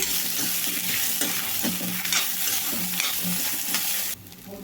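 Unpeeled garlic and curry leaves sizzle in a hot pan while being stirred, a steady close frying hiss with periodic scraping strokes, dropping suddenly in level near the end.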